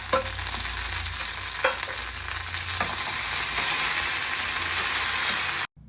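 Dried red chillies crackle and sizzle in hot oil for a tempering, a steady close hiss with a few sharp pops and stirring scrapes, ending abruptly.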